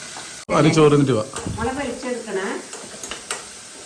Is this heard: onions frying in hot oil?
yes